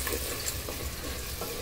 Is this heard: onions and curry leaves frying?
yes